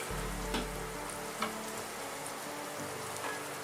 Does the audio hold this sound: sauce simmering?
yes